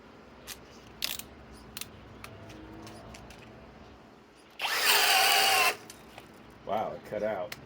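A Master Force Boost hammer drill driver rated at 800 inch-pounds, running on a 2.5 Boost battery, bores with a 3/4 inch speed bore spade bit. One loud, close whine lasts about a second and then stops abruptly, with scattered handling clicks and a brief voice afterward.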